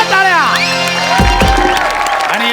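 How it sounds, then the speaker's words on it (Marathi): An audience at a Marathi comedy show applauds and cheers loudly for a team of teachers, with clapping, whoops and shouts filling the space alongside a musical sting. "एकदा जोरदार टाळ्या"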